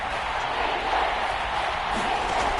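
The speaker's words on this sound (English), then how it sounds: "That just means this crowd's going to get even louder." A football stadium crowd roars in a steady, broad wash of noise, loud and sustained for a few seconds without clear breaks.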